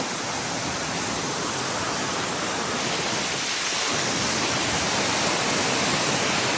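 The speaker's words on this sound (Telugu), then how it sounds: "ఒకసారి వాటర్ ఫాల్ చూపిస్తాం ద బ్యాక్గ్రౌండ్" Jangamreddypalli waterfall roaring steadily, a dense, continuous rush of falling water close by with no pauses and no voices.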